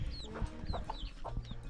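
Chickens at an outdoor family homestead in a Tanzanian tribal village cluck repeatedly in short irregular bursts, with faint bird chirps and low background ambience.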